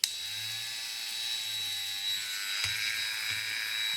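A small electric polishing tool buffs the finish on a 1/24 Tamiya Nissan Skyline R34 GT-R model with a steady high-pitched whine and a faint low hum, the pitch dipping briefly as the tool touches the surface.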